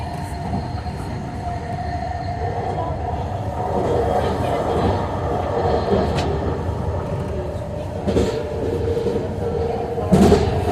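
A SkyTrain at Production Way–University station makes a continuous rumble of rail running with a low hum and brief squeals, a loud nearby presence with a voice speaking over it.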